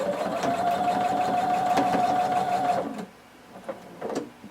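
A sewing machine runs steadily for about three seconds, stitching close to the folded edge of a tank top dress, with a humming whir, then stops, leaving a few light clicks and handling sounds.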